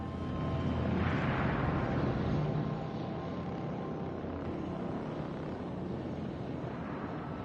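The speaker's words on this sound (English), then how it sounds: "I must request you please back away from the primary engine" Deep, steady engine hum of a spaceship's primary engine in The Outer Worlds, a continuous broad drone that swells slightly early on and then holds even and close throughout, with no voices.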